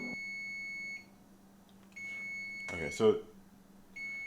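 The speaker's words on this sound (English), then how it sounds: "it's beeping now" An oven beeps in long, steady electronic tones separated by pauses, with a person speaking briefly in between.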